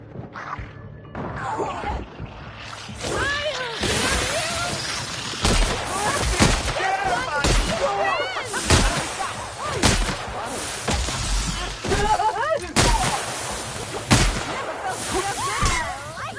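Combat in the sci-fi RPG The Outer Worlds: scattered loud shots and impacts with crashes and bursts across a busy battle soundscape, while a character's voice calls out between bursts.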